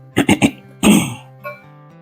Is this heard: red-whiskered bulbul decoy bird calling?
no